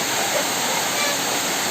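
Ezharakund waterfall gives a constant, broad rush of falling water heard up close, unbroken and without talk.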